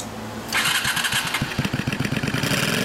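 A 1998 Honda Steed 400 VLS cruiser motorcycle engine cranks and fires up, settling into a loud, uneven low-pitched idle with rhythmic pulsing thumps, heard close with no talking.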